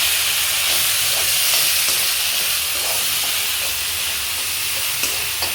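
Tomatoes sizzling loudly in a pan for pasta while being stirred, a dense, continuous frying hiss close up with faint scrapes of the spoon underneath and no talking.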